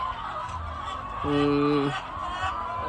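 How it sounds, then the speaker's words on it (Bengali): Chickens at a poultry farm in Indonesia squawk and cackle nearby with one clear honking call standing out, amid background murmuring and farmyard noise. "চলে আসলাম ইন্দোনেশিয়াতে একটা মুরগি খামারে।"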